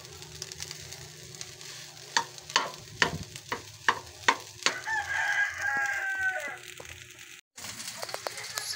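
Hotdogs and eggs frying in a new pan, with steady close sizzling, a few sharp clicks and knocks of the utensil, and a rooster crowing faintly in the background.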